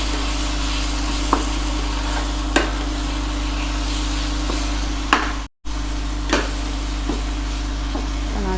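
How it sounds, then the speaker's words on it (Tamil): Coriander and cumin powder are stirred into a frying chicken curry base, a soft sizzle under a steady hum, broken by occasional scrapes of a spoon in the pan. "நல்லா வந்து மிக்ஸ் பண்ணிக்கலாம்."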